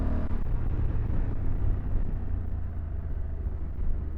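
A Honda CRF1100 Adventure Sports DCT motorcycle pulls in third gear, its engine a loud, steady low rumble mixed with wind roar from up close, with no talking.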